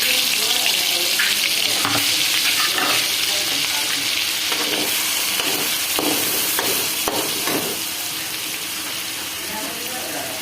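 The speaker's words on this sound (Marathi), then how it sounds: "तेल छान मस्तपैकी असं आता गरम झालेलं आहे. त्याच्यामध्ये आता मसाला टाकून" Ground masala of onion, coconut, garlic, coriander and ginger hits hot oil for a Bombay duck curry, giving a loud, steady sizzle with stirring scrapes that eases slightly toward the end.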